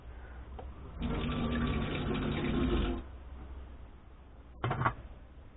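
Water kefir grains are rinsed under running water, with a steady two-second gush of flowing water, then a quieter stretch and a brief splash near the end.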